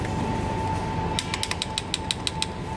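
A socket ratchet clicking on the HPOP pump bolts of a 6.0 Powerstroke diesel engine, a quick series of about ten close, crisp clicks over a steady hum.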